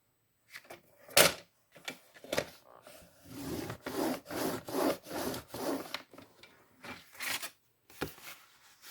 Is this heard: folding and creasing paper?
yes